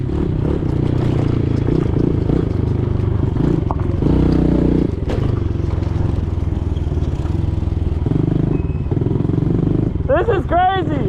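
Minibike engine droning steadily while riding across a bumpy frozen lake, loud and close with rattling and clatter, shifting pitch mid-ride, with excited voices talking over it.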